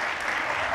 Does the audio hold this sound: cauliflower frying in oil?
no